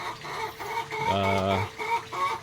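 Rhode Island Red and Dekalb Brown laying hens cluck close by in a farm setting, with a short run of clucks, one longer drawn-out call in the middle and fainter clucking around it.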